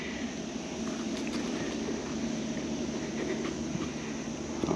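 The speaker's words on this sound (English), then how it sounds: "if you hear a little bit of what sounds like car noise in the background, that is car noise" Interstate highway traffic outdoors in a park forms a steady, continuous broadband roar in the background, constant in level with no distinct passing vehicles.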